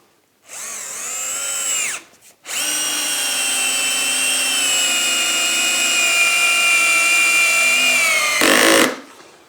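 A Festool cordless drill driver on speed 1 drives a screw without a pilot hole into clamped wood over MDF, two close, loud whirring runs, a short start then a long sustained spin that ends abruptly.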